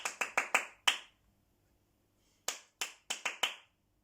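Hand claps in a rhythm exercise from a music lesson: a quick run of five sharp claps, a pause, then another set of five crisp claps, close and alone with no talk.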